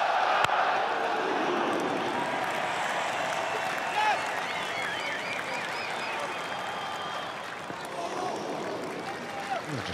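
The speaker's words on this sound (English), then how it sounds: "You can sense it, you can feel it. The crowd. The crowd are up for it." Large crowd at Edgbaston on the final day of the 2005 Ashes cricket Test, a continuous broad roar of cheering and noise filling the ground, steady and loud with a commentator's voice faintly underneath.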